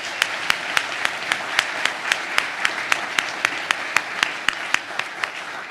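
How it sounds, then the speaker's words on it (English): Applause from a ceremony audience at a Navy signing day event, a continuous wash of clapping punctuated by sharp, regular louder claps from one nearby pair of hands, all fairly close. "Let's give them a round of applause."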